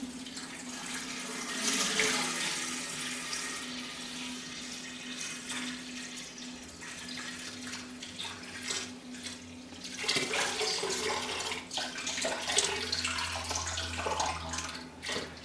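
Water poured into a Big Berkey gravity water filter, a continuous splashing stream into the upper chamber that shifts in tone partway through, close and moderately loud with small drips and clinks and no talking.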